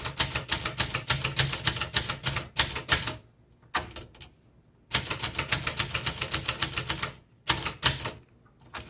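A 1972 Webster XL-747 vintage portable typewriter clatters in quick bursts of sharp keystrokes, loud and close, with brief pauses between runs of typing and no voices.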